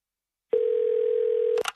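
A telephone dial tone sounds alone as a single steady, clear hum for about a second, then cuts off into brief clicks and a short higher tone.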